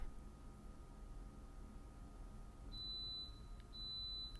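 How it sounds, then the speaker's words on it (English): Two short, high electronic beeps from an oven, one after the other, over a quiet hum. "I'm sorry for the beeping now, it's noise in the back. The oven."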